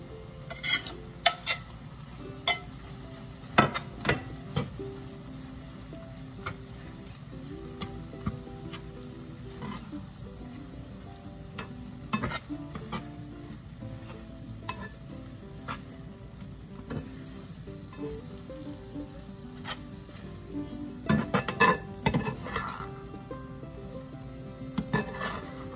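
An egg sizzles as it fries in a pan while a tomato omelette is made, a soft steady hiss under scattered clinks and scrapes of a utensil against the pan.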